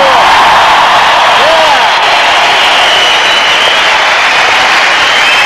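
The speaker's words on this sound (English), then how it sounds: "Give yourselves a round of applause." A big studio audience on a 2001 Grand Final night footy show in Melbourne roars with sustained, dense applause and cheering that stays loud and unbroken throughout.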